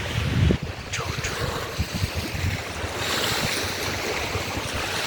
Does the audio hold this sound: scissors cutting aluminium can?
no